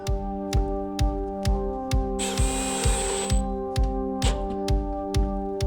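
A screw with a washer is driven into a pre-drilled hole in the back of a bedside unit, a power driver whirring with regular rhythmic clicking pulses, close and fairly loud, alone without talk.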